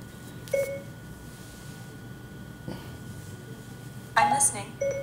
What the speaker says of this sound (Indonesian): Malah HP-nya yang bunyi.